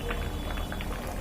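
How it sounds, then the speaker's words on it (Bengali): Moong dal with a hilsa fish head simmers in a covered pot, giving a soft continuous bubbling with small pops, close and steady, with no talk over it. "যতক্ষণ না ডাল হাফ সেদ্ধ হচ্ছে ততক্ষণ পর্যন্ত আমি চাপা দিয়ে এটাকে রান্না করব।"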